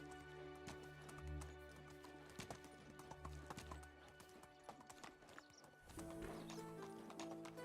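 Horse hooves clip-clop at a steady trot in the medieval village-building game Medieval Dynasty, with a brief whinny and a shift in the ambient backdrop near the end.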